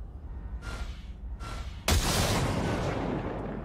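Machine gun fire at a target in Cyberpunk 2077: two short bursts, then a loud, sustained rattle that runs to the end, with no talking over it.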